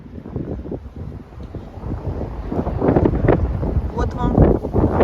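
Strong wind gusting on a sunny January morning in Brooklyn, New York, roaring and buffeting the microphone in a steady, loud rush that swells toward the end, with faint voices mixed in.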